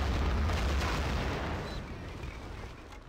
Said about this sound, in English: Med with another preemptive artillery, although this time it's going to do more damage to his own team.